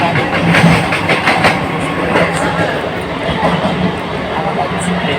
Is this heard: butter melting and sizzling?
no